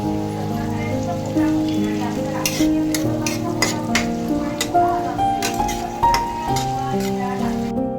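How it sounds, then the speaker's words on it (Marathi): Curry leaves and cumin fry in hot oil for lemon rice tempering, a steady close sizzle with repeated scraping stirs of a spoon against the pan, while background music plays throughout. "आता आपली फोडणी व्यवस्थित फ्राय झालेली आहे."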